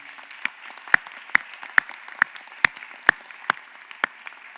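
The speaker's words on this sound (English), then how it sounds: "Please help me thank all of these people with one more round of applause" Applause at a fall commencement for an arts college, heard as sparse, evenly spaced individual claps, about ten sharp hits over a thin background of scattered clapping.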